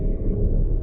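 Hyundai Santa Fe engine pulling under hard acceleration, a steady, heavy low rumble that holds loud and even throughout, with no talk over it.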